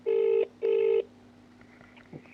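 Two long electronic telephone ring tones back to back, loud and close, on an outgoing call to a lawyer, followed by a quiet line with faint clicks.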